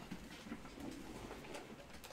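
Cooing and soft clucking from a pet hen, which sounds pigeon-like, low and repeated several times under steady noisy background hiss, with no talking.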